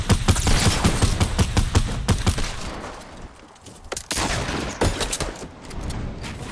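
Rapid gunfire from the battle royale game Fortnite rings out in dense, loud bursts of sharp shots. There is a brief lull in the middle before more shots follow.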